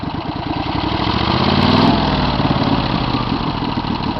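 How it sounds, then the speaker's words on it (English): A 2008 Mud Buddy HD 6000 mud motor, a 60 horsepower engine, runs steadily up close with a loud, even drone and a dense throbbing beat, swelling slightly midway before settling back to a constant roar. "And I'm going to turn this prop on here, and I want to show you that."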